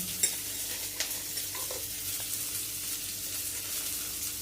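Onion frying with ginger in a pan for a spicy Khandeshi pavta curry, giving a low, steady sizzle with soft stirring scrapes and a light clink near the start, with no voices.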